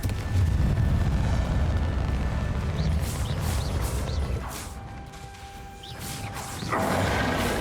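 Fiery Confringo spell blasts in Hogwarts Legacy during a boss fight: a sustained roaring rumble with whooshing bursts and crackling impacts, fairly loud throughout and swelling again at the end.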